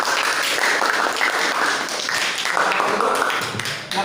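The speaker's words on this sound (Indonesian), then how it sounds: "Kita tepuk tangan dulu untuk kelompok 3" A classroom of students claps for a presenting group. The applause is steady, dense and close, lasting about four seconds before it tapers off.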